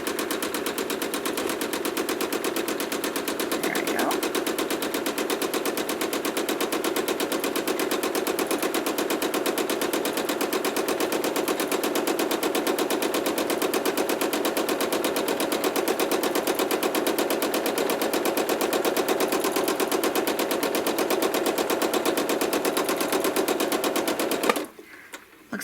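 A sewing machine quilts a stitch in the ditch with thin thread, a fast, even rattling hum running continuously and close for a long stretch before stopping abruptly.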